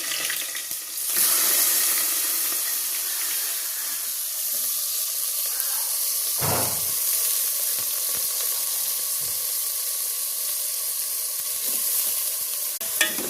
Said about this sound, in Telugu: బౌల్ పెట్టి ఆయిల్ పోసుకొని ఆనియన్స్ వేస్తుంది.